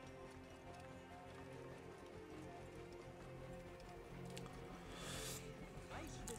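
Horse hooves clip-clop at a steady gallop in Assassin's Creed Origins, a quiet continuous beat under game ambience with a brief brighter burst near the end.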